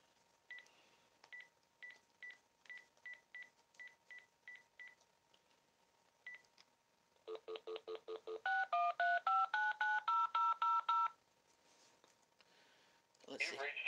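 Telephone dialing: a run of short, evenly spaced keypad tones, then a faster sequence of distinct dial tones, followed by a brief burst of sound at the end.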